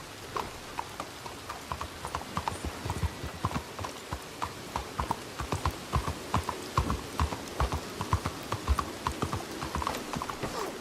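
A horse's hooves clip-clopping at a steady walking rhythm in Red Dead Redemption 2, the sharp regular hoofbeats continuing throughout with little else in the background.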